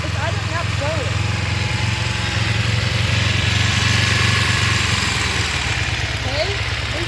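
A restored 1986 Kawasaki Ninja 250R Targa motorcycle engine runs steadily at a low idle throughout, close and loud, with a person speaking over it at times.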